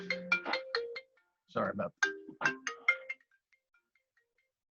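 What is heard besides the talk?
mobile phone ringtone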